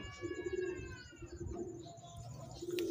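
A Teddy pigeon held in a hand gives soft, low, repeated coos close by, with faint chirps and background noise in between and no talk.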